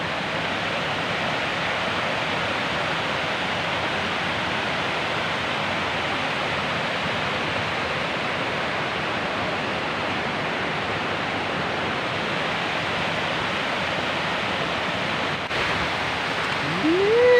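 Water rushes steadily over the NIA dam at Nahawan, Clarin, Bohol, a dense, even roar that holds unbroken throughout with no voices.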